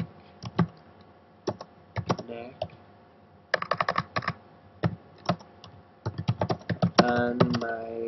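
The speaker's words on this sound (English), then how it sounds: "I can type in the words for the next line" Typing on a computer keyboard while entering song lyrics into music notation software, with irregular bursts of crisp key clicks separated by short pauses, close and clear.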